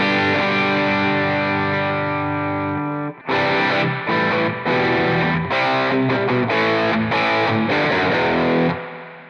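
An electric guitar plays a crunchy, distorted rhythm tone through an Amplitube software amp preset, starting with a sustained chord, then choppy strummed chords that ring loud and dense before stopping abruptly.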